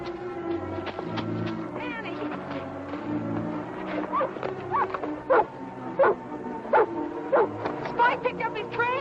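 A tracking dog named Spike, following a trail in a 1949 film, bays and barks repeatedly, loud and near, in an irregular rhythm over a music score, with voices mixed in.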